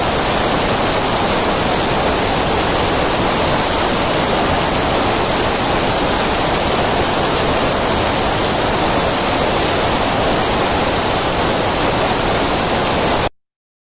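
Steady, dense broadband hiss like static or rushing water, a recreated sound of bacillus bacteria with some frequencies stronger than others, loud and unchanging, cutting off abruptly at the end.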